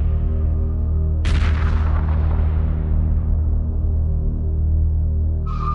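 Heavy weapons fire in the space strategy game Homeworld Remastered lands as one sharp, loud blast that rolls off into a long rumbling decay over a steady low engine hum.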